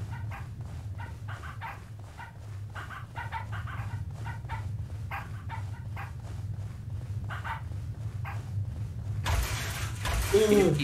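Dogs bark in short, irregular bursts through a horror game playthrough of Pacify, over a steady low droning background, with a louder burst of noise near the end.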